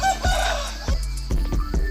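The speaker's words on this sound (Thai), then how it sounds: "เสียงไก่ยังขันอยู่เลยนะทุกคนนะ" A rooster crows in the background at dawn, around 5 a.m., while close thumps and handling noises come and go.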